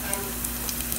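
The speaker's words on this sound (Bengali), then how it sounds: "আমি ভাজার মধ্যে দিচ্ছি কাজু বাদামগুলো, যেগুলো ওগুলো একটু ভেজে নিব" Cashew nuts fry in a pan for shahi jorda, a steady close sizzle with faint crackles and no pause.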